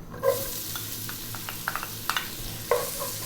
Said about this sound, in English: Next up, we're going to add in our onion.